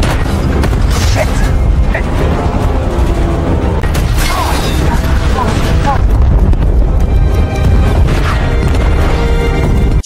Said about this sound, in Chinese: 德军的高射炮也像烟花一样在空中不断爆开